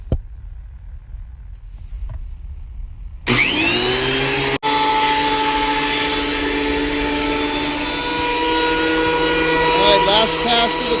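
A wood planer winds up after a stretch of low background noise and then runs loud and steady as a board is fed through on the last pass of a cheese board build, with a brief dip partway.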